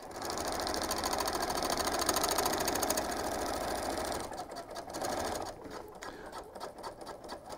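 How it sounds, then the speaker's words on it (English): A sewing machine stitches vinyl in a steady close mechanical whir that runs continuously, then changes pace partway through and becomes choppier, with no speech. "I'm lining up my vinyl along that bottom chalk to make sure that everything stays nice and crisp as I'm sewing these lines."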